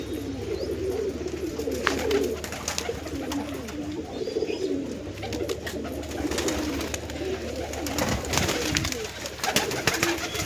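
Pigeons coo steadily near and far, a soft repeated warble with occasional wing flutters and light knocks, heard close and alone without talk.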